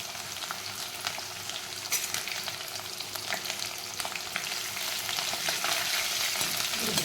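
Garlic and fresh green chilies sautéing in a pan for a gram-leaf vegetable dish, a continuous close sizzle with soft stirring scrapes that grows slightly louder toward the end.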